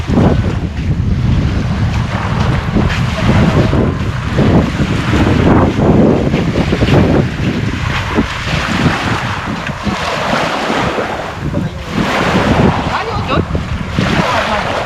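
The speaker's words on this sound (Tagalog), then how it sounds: "Lakas na yung hangin." Strong wind roars across the sea past a small boat, buffeting the microphone in a loud, continuous rush while water splashes beneath, with a voice faintly audible at times.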